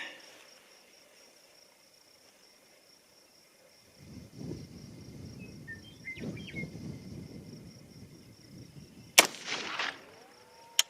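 Two 90-grain 6.8 SPC II rifle shots at a range, heard as distant sharp cracks near the end over faint insect and cricket chirping and low outdoor rumble.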